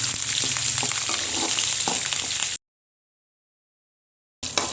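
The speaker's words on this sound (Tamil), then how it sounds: "இந்த எண்ணெயில் இது கொஞ்சம் வதங்கட்டும்." Curry leaves, crushed garlic and lentils sauté in hot oil for a coriander thuvaiyal, crackling and sizzling close up with light stirring, then cutting out to silence before a brief return.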